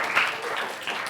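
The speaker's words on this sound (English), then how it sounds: "Please give applause for Evan." An audience applauds a student after his thesis defense presentation, a brief, steady wash of clapping at moderate level without any talk.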